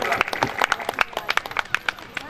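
Short burst of audience clapping at a Shrimad Bhagavat Katha religious gathering, a loose scatter of sharp individual claps from a modest crowd, fairly close, lasting a couple of seconds.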